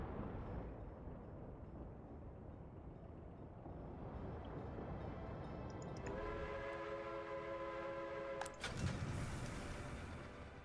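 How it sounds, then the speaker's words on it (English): Trains roll through a video game rail yard, a faint, low rumbling bed of movement that later gains sustained tonal hums and sharper mechanical layers, heard without any talking. "The trains will wait in this area until it's time for the other train to move past it"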